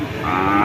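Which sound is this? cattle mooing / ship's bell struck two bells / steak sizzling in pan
cattle mooing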